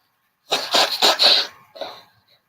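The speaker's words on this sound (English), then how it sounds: "I have to sneeze, excuse me." A single forceful human sneeze, close and loud, a burst of several sharp bursts followed by a softer trailing exhale, with no talk.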